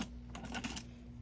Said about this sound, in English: So we're going to cut right about there.